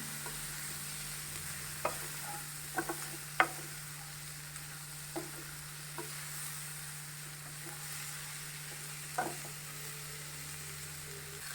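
Goan-style prawn chilly fry with tomato cooks on a medium flame, a low, steady sizzle broken by occasional scrapes and taps of the stirring spoon in the pan.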